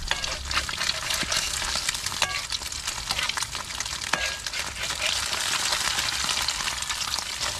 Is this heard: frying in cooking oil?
yes